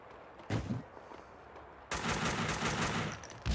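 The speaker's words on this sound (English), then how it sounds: "I shoot these, they're just gonna blow up." Video game gunfire in Max Payne 2 comes as a short burst early on and then a sustained rapid volley of shots, loud and close.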